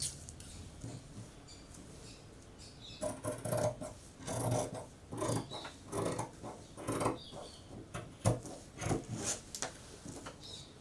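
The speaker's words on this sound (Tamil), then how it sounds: "இந்த அளவு வச்சுட்டு இந்த எக்ஸஸாக இருக்கிறத கட் பண்ணிடுறோம்" Scissors snipping away excess fabric while cutting out a baby frock, a series of quiet, close scraping cuts in irregular bursts over a soft background hiss.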